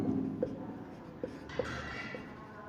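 Chalk or marker strokes scratching across a board in a Hindi-medium class 11 physics lesson, with short taps and a longer scraping stretch, close and clear with no talk.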